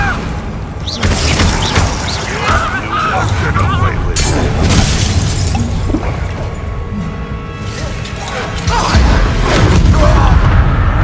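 Glacier spell cast in Hogwarts Legacy during a fight, a loud, close burst of crackling, crashing ice layered with booming impacts and clattering combat effects that continue throughout, with voices shouting over it.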